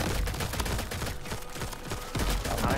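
Rapid sniper shooting in the video game Crab Champions, a dense, loud volley of overlapping shots and impacts with no talk.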